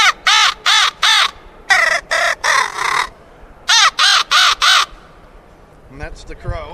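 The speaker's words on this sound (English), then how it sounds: "And this will be crow." Loud, near crow calls from an electronic predator game caller: harsh caws in quick sets of three, four and four, followed by a faint trailing sound.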